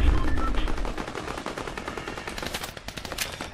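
Submachine gun firing in the video game Fortnite, rapid sustained bursts of loud close gunshots with a short lull and then more quick shots.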